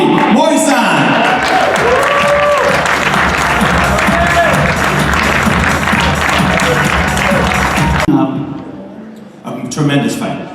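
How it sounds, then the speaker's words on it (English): Big round of applause from a crowd at the MEX Hall of Fame induction for Bobby Morgenstein, loud and sustained with cheering and talk mixed in, cutting off sharply near the end before scattered voices return. "Please give a big round of applause to your next MEX Hall of Fame inductee, Mr. Bobby Morgenstein."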